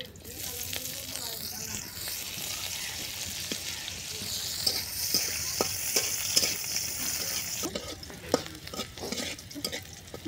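Onions fry in a pan for a fish-head and cabbage dish, a steady loud sizzle with repeated stirring strokes and scrapes that stay close and continuous throughout.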